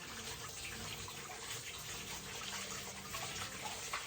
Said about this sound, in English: I'm just going to switch on the return pump for the first time.